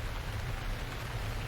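Steady rain falls throughout a day of cycling in South Korea, a faint, even hiss and patter of drops with no voices.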